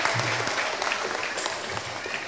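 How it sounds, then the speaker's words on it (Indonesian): An audience at an Islamic religious lecture applauds: continuous, dense clapping that stays fairly loud and even throughout, with a faint voice mixed in beneath. "Tepuk tangan dulu dong, luar biasa mantep"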